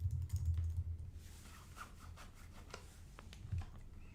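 Keys clatter on a computer keyboard as a git push command is typed, quick faint taps spread across a few seconds with soft rubbing noise and low rumble beneath.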